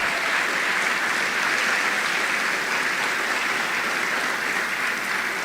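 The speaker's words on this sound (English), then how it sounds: "Take all the applause that you need." Dense, sustained applause from a graduation ceremony audience honoring students, loud and steady from start to finish with no break.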